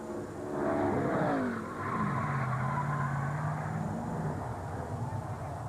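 Stock car at the 2004 Food City 500 qualifying session, its engine note sweeping and droning steadily as the car slides and spins around toward the wall, with tires skidding briefly and a commentator's voice faint underneath.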